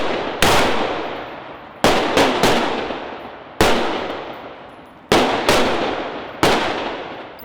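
Gunfire from special warfare combatant-crew candidates shooting on an outdoor range: loud, sharp reports, some single and some in quick pairs, each with a long echoing decay, spaced roughly every second or two, with no talk.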